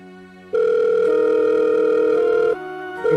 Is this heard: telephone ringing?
yes